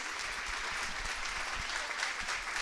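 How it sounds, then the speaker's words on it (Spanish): Audience applause welcoming a speaker at a hospital conference on traditional medicine and complementary therapies, a steady broadband clapping that fills the whole moment without pause. "Y el aplauso."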